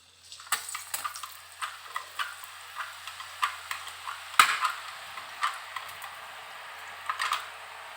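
Murukku (chakli) dough sizzling in hot oil, with soft crackling bursts and sharper pops recurring steadily, close and fairly quiet, with no talking.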